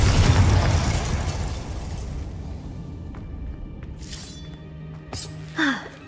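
A Confringo blasting spell from the video game Hogwarts Legacy explodes in a loud, booming burst that decays into rumbling debris, followed by scattered magical cracks and a short rising whoosh.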